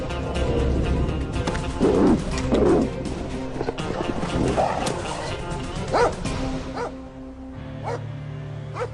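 A dog barks a few times amid a busy, noisy scene with other background sounds, the barks fairly close and punchy.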